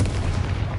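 Confringo blasting spell in Hogwarts Legacy, a short heavy explosive burst with deep rumbling low end, close and loud, lasting under a second.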